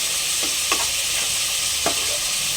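Prawns fry in a pan with a steady close sizzle, broken by a few brief scraping stirs, and no voices.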